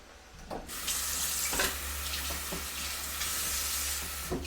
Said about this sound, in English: Now, add a little water.